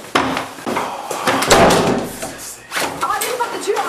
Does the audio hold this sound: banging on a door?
yes